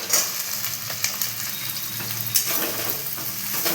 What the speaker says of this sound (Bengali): ভাজতে হবে কিন্তু ভালো করে পেঁয়াজের পরে দিয়ে দেবো গাজর